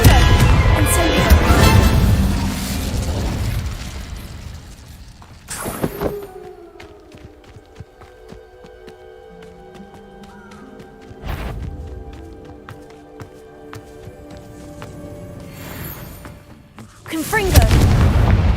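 Confringo and Incendio spell blasts in Hogwarts Legacy: heavy booming bursts at the start, middle and end, with a loud fiery roar opening the sequence and game sounds between.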